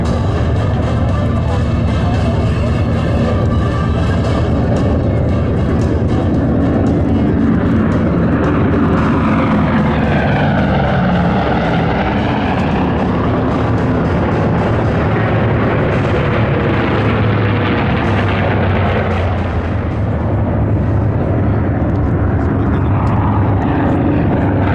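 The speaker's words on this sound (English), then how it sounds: "They'll fly back and forth, left and right, so they can stay with the bombers," Vintage propeller warbirds, bombers with escorting fighters including a B-24, roar overhead at the Arsenal of Democracy flight over Dallas, a loud sustained engine drone that swells and fades across the pass without any talk.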